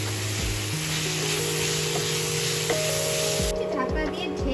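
Spinach with chili powder and coriander powder stirred in a frying pan for a spinach and red lentil dish, giving a steady close sizzle with occasional scrapes, over a faint tonal hum.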